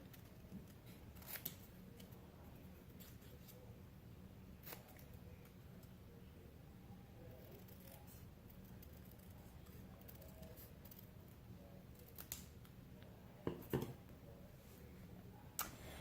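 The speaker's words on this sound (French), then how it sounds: "Il faut le faire au ciseau." Scissors cut paper by hand for a snowy forest Christmas card, soft close snips scattered through a quiet room with a few sharper clicks near the end.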